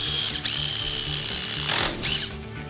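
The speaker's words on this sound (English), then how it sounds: "So here's how you use the drill driver with a drill bit." A combination hammer drill driver fitted with a drill bit runs in short bursts, a high electric motor whine that dips and restarts, close up and alone.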